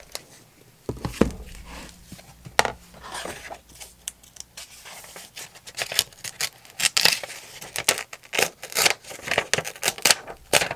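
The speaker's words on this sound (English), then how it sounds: "I trim down till I'm very close to the printed area." Scissors snipping through a sheet of musical paper, trimming close to a printed area, with a run of quick, irregular cuts and rustles that grow busier and louder toward the end.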